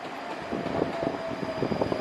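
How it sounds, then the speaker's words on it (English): A train for Edinburgh pulls into Drumgelloch station on the edge of Airdrie, a steady rumble with a faint high tonal whine and rhythmic clatter of wheels, moderately close and continuous with no talk. "Train for Edinburgh approaching."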